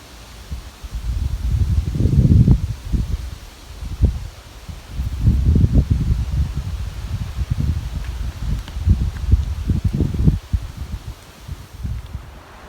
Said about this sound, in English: You hear the wind moving through the trees?